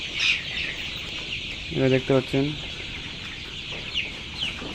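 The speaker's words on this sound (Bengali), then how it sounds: "অল্প জায়গায় অনেক মুরগি পালা যায়" A crowded flock of colour bird chickens on a poultry farm gives a constant chorus of clucks and chatter, with a few louder close calls in the middle; a person speaks briefly over them.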